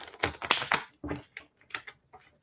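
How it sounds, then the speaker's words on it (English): A deck of small tarot cards being shuffled by hand, a quick run of crisp riffling bursts and flicks, close and fairly clear with no talking. "Let me go ahead and shuffle this deck right quick."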